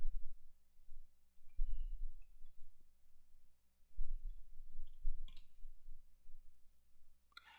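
Light clicks from a computer keyboard as a plugin name is typed into a WordPress search box, coming in short, quiet bursts with no talking.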